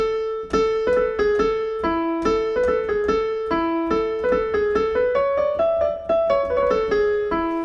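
A piano plays a short, repeating melodic riff, single clear notes in a steady rhythm, played alone.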